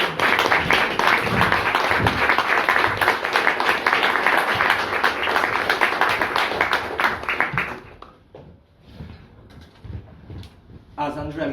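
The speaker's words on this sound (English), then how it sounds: "please give a big round of applause" A Toastmasters workshop audience in Copenhagen gives a big round of applause for a speaker. Dense, close clapping runs strongly for about eight seconds, then thins out to a few scattered claps and room noise.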